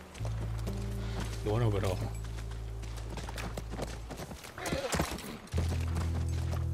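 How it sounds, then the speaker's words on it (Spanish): Horse in The Last of Us game near a ranch, with clip-clop hooves and a short whinny, under steady game music and drone and someone talking over it. "Es nuestro caballo."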